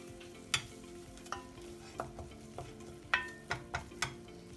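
Seafood pie filling cooking over residual heat in a pan, with a spoon stirring and scraping through it in several sharp clicks and scrapes over a soft, steady background.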